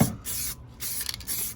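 A spray paint can hisses out a fan pattern in short bursts inside a 1995 Peterbilt 379 cab, close and fairly quiet, with brief pauses between sprays.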